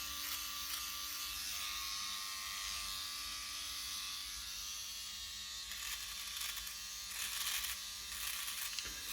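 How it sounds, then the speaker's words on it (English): A Philips OneBlade QP6530 electric razor trims a beard, giving a steady close buzz with rising scratchy cutting texture as the blade passes through the hair. "You hear the cutting, of course."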